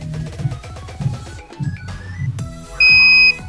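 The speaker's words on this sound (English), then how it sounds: "Don't press this button until you hear a beep like so" A router beeps once after its reset button is held: a single clear, steady electronic tone about half a second long, cutting through ongoing background music.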